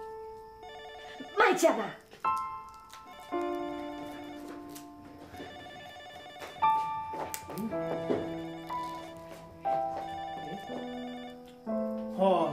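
A telephone rings repeatedly in a TV drama scene, its electronic tones recurring in bursts while people talk over and between the rings.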